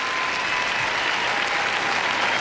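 A figure skating crowd stands and cheers through sustained, loud applause, a dense wash of clapping with no breaks, at the 2001 World Figure Skating Championships.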